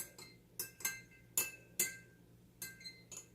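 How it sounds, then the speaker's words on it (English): An old spoon stirs Orbeez in a glass, giving light clinks of metal on glass, about eight faint taps at irregular intervals with no talk. "Probably should get something to stir that, so just get me an old spoon here."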